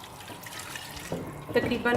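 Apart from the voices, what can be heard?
water being poured into a pot of potatoes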